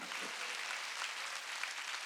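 Congregation clapping together in a church during a Sunday worship service, a steady dense patter of many hands held at an even level throughout, fairly soft and distant.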